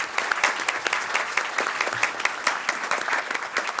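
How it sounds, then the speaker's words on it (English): Steady round of applause from the audience at a Franklin Township, New Jersey council meeting, dense clapping sustained evenly throughout without a break. "Let's give these young people a round of applause."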